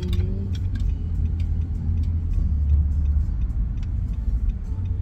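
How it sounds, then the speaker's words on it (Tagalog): Traffic on the Van Wyck Expressway in New York: a continuous low rumble of passing cars with faint ticking and light clatter, moderately loud and steady, no voices. "Van Wyck Expressway. Tamo expressway yan? Puro traffic."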